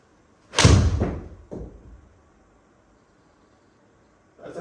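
A golf club strikes the ball on a practice shot aimed at fixing a slice: one loud, sharp thud close by, then a softer follow-up thump and quiet room noise.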